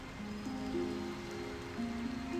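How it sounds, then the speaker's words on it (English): Steady rain in the Sky: Children of the Light video game, a soft constant hiss of falling drops with faint sustained musical tones underneath. "you gotta get under cover because the rain will jack this thing up"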